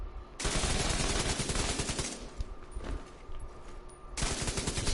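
Sustained light machine gun fire in the video game Division 2, from a double LMG setup. Long, loud, rapid automatic bursts with a short lull, then firing resumes near the end.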